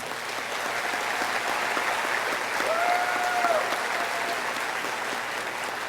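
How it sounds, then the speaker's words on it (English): A crowd at a high school graduation claps continuously at a steady level, with a brief tonal whistle-like sound rising above the applause partway through. "Let's give them a round of applause"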